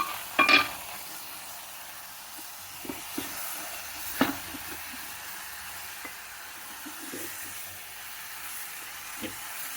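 Pieces are stirred in a pan with chili powder, salt and ginger-garlic paste, a low steady sizzle broken by a few soft scrapes and knocks of the spoon, with no talking.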